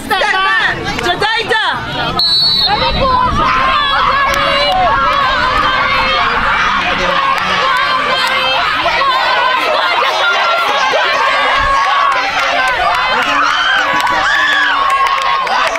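Spectators cheer a junior school semi-final race at Alleyne School in Barbados: a loud, sustained crowd roar with children shouting and excited chatter, close and unbroken for the whole stretch.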